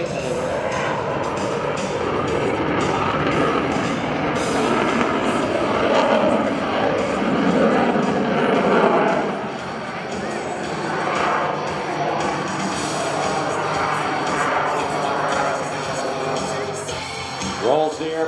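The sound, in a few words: F/A-18C Hornet jet flying airshow demonstration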